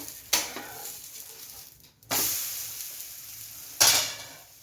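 A thick methi paratha sizzles on a hot pan just after being flipped, with three sharp bursts of frying hiss that each swell and fade, close and fairly loud.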